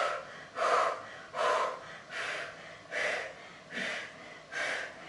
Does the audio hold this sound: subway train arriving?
no